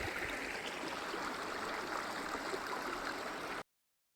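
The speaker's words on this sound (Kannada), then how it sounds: "ನೀರಿಂದ ಒಂದು ಸೌಂಡ್ ಬಿಟ್ಟರೆ ಬೇರೆ ಯಾವುದೇ ರೀತಿ ಶಬ್ದ ಇಲ್ಲ ಇಲ್ಲಿ" Steady broadband rush of water pouring among rocks at a dam, continuous and fairly loud, with no voices, cutting off abruptly near the end.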